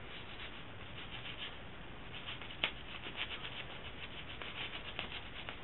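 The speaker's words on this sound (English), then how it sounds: "flip your bolt carrier over here, and just start scrubbing" Brush scrubbing an AK74 bolt carrier with solvent, a soft, steady scratchy rubbing close by with a few sharper scrapes, no talking.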